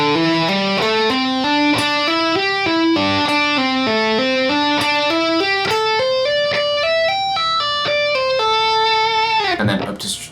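A distorted electric guitar in EADGCF tuning plays a pentatonic lick slowly, distinct notes stepping up and down in an even rhythm, ending in a short noisy scrape.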